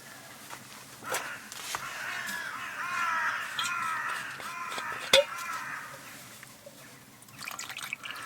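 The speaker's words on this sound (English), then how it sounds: "this is a bit of a rookery. One of the meetups of all the crows around here." Many crows caw over and over from some distance at a rookery in Suffolk, harsh calls overlapping in a loose chorus, with a few soft clicks and knocks nearby.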